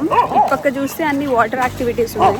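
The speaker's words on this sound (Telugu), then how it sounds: "కుక్క" A dog barks and yips near a beach road in Pondicherry. The short barks come in bursts mixed under continuous nearby talking.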